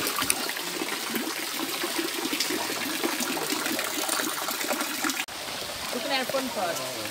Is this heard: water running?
yes